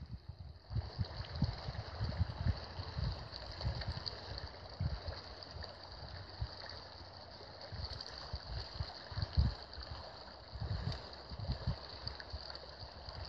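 A creek flows by its bank near Sağkaya village on a spring day, giving a steady, moderate rushing wash throughout with occasional low rumbling gusts.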